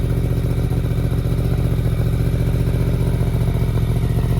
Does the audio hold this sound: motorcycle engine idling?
yes